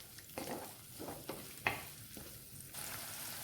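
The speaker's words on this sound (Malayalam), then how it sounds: "ഇതിലേക്ക് 1 പിടി ഉള്ളി അരിഞ്ഞതും 1 പിടി കറിവേപ്പിലയും കൂടി ഇട്ട് കൊടുക്കാം" Chopped onion and curry leaves sauté in hot oil, a soft steady sizzle broken by a few scraping stirs, close and fairly quiet.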